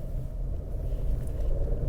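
Škoda Kushaq 1.0 automatic driving on a hill road: a steady low engine drone mixed with road rumble, brief and even in level.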